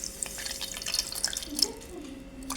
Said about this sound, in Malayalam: അതിലേക്ക് കുറച്ച് വെള്ളം ഒഴിക്കാം.